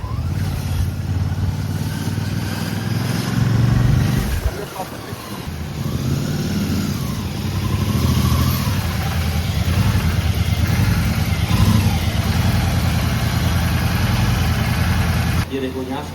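Royal Enfield motorcycle engine idling steadily at close range, a continuous low rumble that briefly dips around the fourth second and holds through the rest of the clip.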